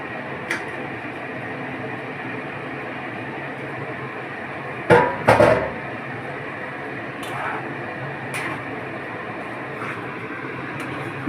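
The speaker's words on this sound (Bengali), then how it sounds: "এবার চিকেনটা এর মধ্যে দিয়ে দেবো, এই চিকেনগুলো দিয়ে দেবো।" Chicken pieces are added to spiced masala in a pan and stirred, giving a steady sizzling hiss with a few sharp clanks and scrapes of a utensil against the pan, the loudest cluster coming midway.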